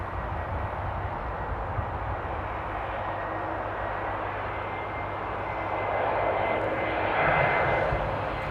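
A passenger airliner on approach to Amsterdam Airport, heard as a steady broadband engine roar that swells slightly near the end, fairly distant, with no talk over it.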